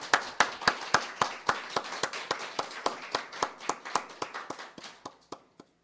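A church congregation claps in thanks to God during a worship service, a steady rhythmic series of sharp, near hand claps in unison that slows and thins out toward the end.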